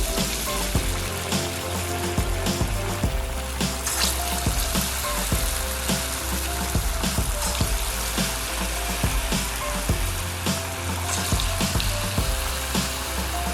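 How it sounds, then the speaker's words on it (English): Cassava fritters frying in a pot of hot oil on a stove at medium heat, a steady close sizzle with dense crackling and popping throughout, no voices. "I'm just going to add the cassava balls now, fritters, let them fry"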